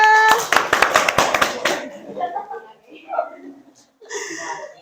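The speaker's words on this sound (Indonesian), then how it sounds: "Tepuk tangan." Brisk classroom applause from a group of students during a career guidance lesson, loud and dense for about two seconds before fading into a teacher talking.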